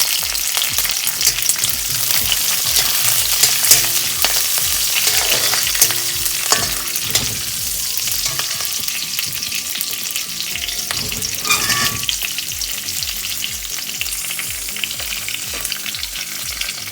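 Chilies and curry leaves fry in hot oil for vermicelli upma, a loud continuous sizzle with sharp crackles and occasional stirring scrapes, close and steady throughout with no talking.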